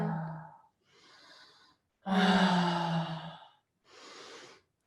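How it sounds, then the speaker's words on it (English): Deep breaths during a pelvic reset breathwork session: a voiced sighing exhale, a quiet inhale, then a long loud voiced exhale and another softer breath, close and alone. "Some bigger breaths here."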